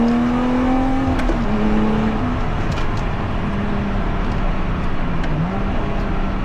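A Lotus Exige V6 350 sports car revs and accelerates up through the gears in a steady climbing whine, heard loud and continuous from the cabin with faint clicks on top.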